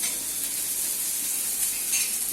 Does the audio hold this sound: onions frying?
yes